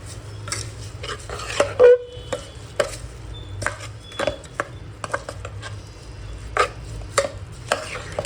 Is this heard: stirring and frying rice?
yes